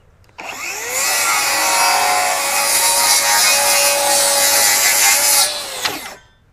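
A Flex FX2141R 24-volt brushless rear-handle circular saw makes a plunge cut into wood: a sharp spin-up, then a loud steady high whine for about five seconds, then winding down, close and alone.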